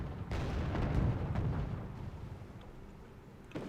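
Enemy artillery fire in the Wargame: Red Dragon video game, a low rumbling burst of distant explosions that swells and then fades, with a sharper thump near the end.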